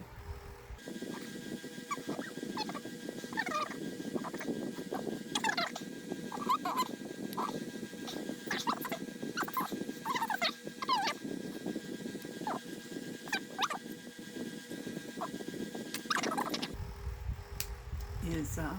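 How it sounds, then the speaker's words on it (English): Pet birds chirp in short, light bursts scattered throughout, fairly faint and steady over a constant low background hum indoors. "my birds are being so well behaved and quiet. Just little chirping."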